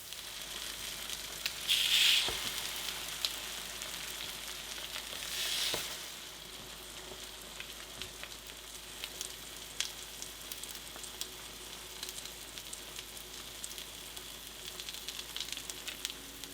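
French toast sizzling in butter on a griddle set around 350 degrees, a quiet steady frying hiss with a couple of louder swells early and scattered small pops.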